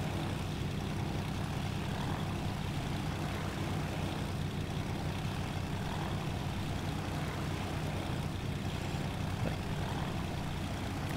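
Ménestrel HN 433 light aircraft engine idling in Microsoft Flight Simulator, a faint, steady low drone with even wind-like noise throughout and no talk.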